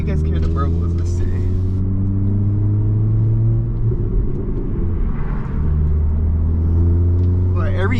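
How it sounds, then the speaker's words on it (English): A modified 2022 Honda Civic Si drives at night, its engine a loud, steady low rumble close inside the cabin, with exhaust burbles on gear shifts. "every gear you kind of basically shift, you get a lot of burbles"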